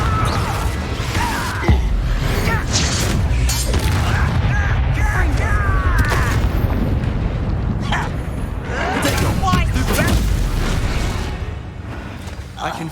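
A Confringo spell goes off in the video game Hogwarts Legacy, a booming explosion within continuous game sound of blasts, rumbles and swooshes, with voices speaking over it.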